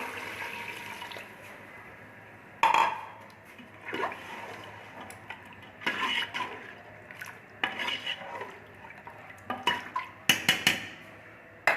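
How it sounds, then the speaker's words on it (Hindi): Water poured into a pot of browning mutton and potato curry, with scattered clinks and scrapes of the pot and utensils over a quiet kitchen background. "पानी डालती हूँ।"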